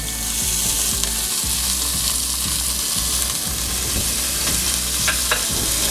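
Onion and green onion fry in olive oil in the pan used for chicken, a dense, steady crackling sizzle up close with occasional soft stirring knocks, and no talking.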